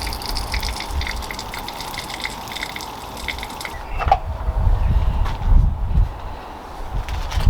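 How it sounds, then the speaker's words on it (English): Water rushing through a replacement pressure washer to prime it, a steady gushing hiss joined by a louder low mechanical rumble partway through, close and continuous with no talk. "Right, let's run water through there to prime it"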